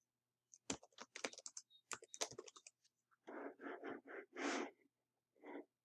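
Quick clattering keystrokes typed on a computer keyboard during a virtual machine setup demo, then a run of heavier, evenly spaced key presses, alone and close by with no talking.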